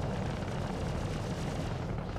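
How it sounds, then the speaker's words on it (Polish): A big explosion in the Star Citizen space game erupts into a continuous roaring rumble that fills the whole moment at moderate level. "Ostatni strzał, pięknie. Ale łupło. Ale pieprznęło."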